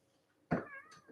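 A house cat gives one clear, close meow with a wavering, drawn-out tone, then a short softer trailing note, in a quiet room.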